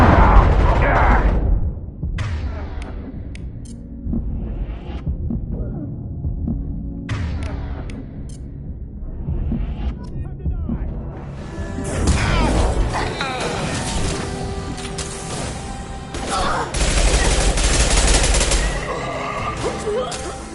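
Heavy gunfire rattles through a Mass Effect 2 firefight: sustained bursts and loud cracks of weapon fire layered over a dense battle soundtrack, growing louder and more chaotic in the second half.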